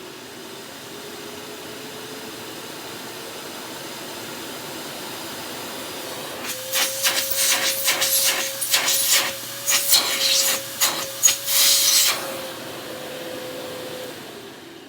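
An Oreck DTX 1300 Dutchtech vacuum motor runs steadily with a whining tone and hiss, rising in speed midway while brief bursts of rattling or clicking come and go before it settles back.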